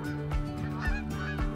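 Geese in the hunting game theHunter: Call of the Wild honk in alarm with a dog nearby, a steady run of nasal honks repeating about every half second, fairly close and loud with no talk over them.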